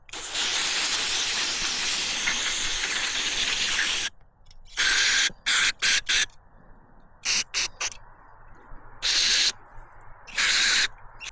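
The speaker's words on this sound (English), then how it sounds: "let's take it outside and clean it up with carb cleaner" Carb cleaner is sprayed onto a Toro snowthrower carburetor outdoors, first in one long loud hissing blast of about four seconds, then in a string of short sharp bursts of varying length.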